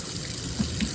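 Cold water runs steadily from the sink faucet in a 2022 Forest River No Boundaries travel trailer, a soft, close, continuous splash with no talking.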